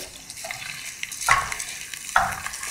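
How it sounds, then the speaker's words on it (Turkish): Rice poured into melted butter in a pan and stirred for pilaf, giving a soft, steady sizzle with a few sharp scraping stirs near the microphone. "Pirinçlerimi de döküyorum."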